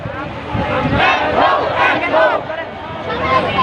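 A large crowd of protesters on a march after Friday prayers chants and shouts together loudly and close by, voices rising in rhythmic surges.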